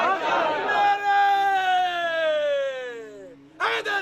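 A crowd at a religious gathering, where a Sunni cleric speaks on Ali's wilayat, chants religious slogans. One long, drawn-out shouted call rings loud and close, with a burst of crowd voices at the start and again at the end.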